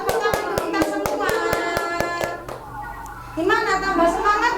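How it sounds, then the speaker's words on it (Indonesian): Children in a third-grade virtual class clap their hands in a steady, quick beat while singing 'If You're Happy' together; sharp, even claps sit under the voices, then the clapping stops and the singing carries on. "Sudah tepuk tangan untuk kita semua."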